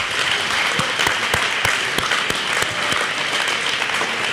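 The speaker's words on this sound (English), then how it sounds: "how about a huge round of applause for Coach K?" Loud audience applause at a school spring sports awards ceremony, a full crowd clapping steadily, with a few sharp, close individual claps standing out in the mix.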